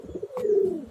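A pigeon coos once, a soft rolling low call heard close and alone, with a brief flutter-like rustle partway through.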